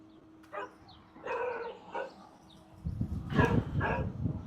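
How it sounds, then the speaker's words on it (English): Dogs bark outdoors in a front yard, a few separate sharp barks early on followed by a louder, denser cluster of barks and yips near the close, moderately close over quiet surroundings. "I hear you barking."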